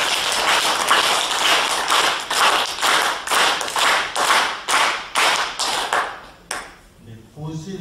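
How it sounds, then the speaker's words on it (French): Hands clapping in a guided energy exercise, about twelve firm separate claps in a steady rhythm close by, followed by a quiet pause and a voice starting to speak. "vous allez applaudir juste 12 fois"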